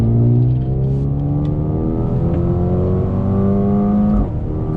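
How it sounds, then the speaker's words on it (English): A 2020 Mercedes-AMG A35 sedan accelerates hard on throttle, its engine droning and climbing steadily in pitch through a gear, loud and close from inside the car with no talking. "let's do another little on-throttle acceleration."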